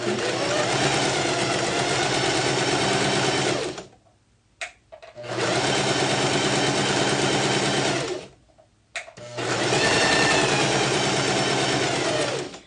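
A sewing machine stitches the hem of a circle skirt in three long, loud, steady runs of rapid mechanical whirring, separated by short pauses with faint clicks.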